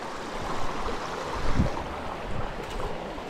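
A mountain river stream rushes in a steady, broadband wash of flowing water, continuous and fairly loud outdoors, with some wind buffeting and occasional thumps near the microphone.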